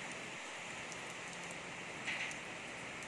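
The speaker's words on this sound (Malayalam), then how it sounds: "മഴ നല്ല ശക്തിയോടെ തന്നെ പെയ്യുന്നുണ്ട്." Rain pours steadily in an evening garden of potted euphorbia plants, a continuous even patter and hiss, soft but unbroken, with no voices.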